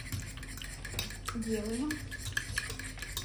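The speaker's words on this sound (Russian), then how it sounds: "Дальше берем вилочку и все это хорошенько вот так" A fork clinks and scrapes steadily against a bowl while stirring khachapuri batter, with rapid light metallic taps throughout and a brief spoken word near the start.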